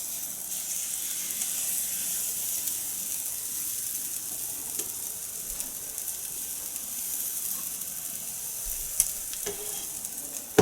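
Waffle batter sizzles steadily in a greased, hot waffle iron, a continuous even hiss close by with a few faint clicks and no talking.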